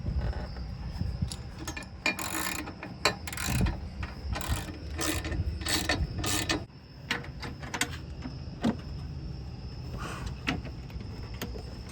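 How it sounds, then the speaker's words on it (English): Bolt being threaded in while a Reese trailer hitch is installed on a 2014 Ford Escape Titanium, heard as repeated ratcheting clicks and metallic rattles in irregular bursts, close up with no talk. "All right, the bolt is threaded."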